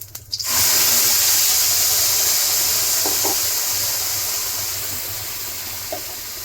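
Chicken with salt and fried spices sizzles loudly in a pan for Bengali chicken kosha, a constant hissing fry that swells right after a brief opening clatter and slowly softens, with no one speaking.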